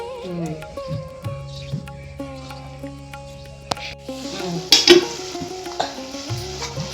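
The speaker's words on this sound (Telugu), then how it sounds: "ఇదిగోనండి ఉల్లిపాయలు వేస్తున్నాయి" Onions go into hot oil for a sea fish curry and sizzle as they are stirred, under prominent tonal background sound, with a sharper clatter midway.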